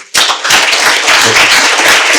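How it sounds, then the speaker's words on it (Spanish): Audience applause breaks out after a keynote lecture on corruption cases, a sharp onset followed by dense, loud sustained clapping from a large crowd with no talk over it. "Un aplauso,"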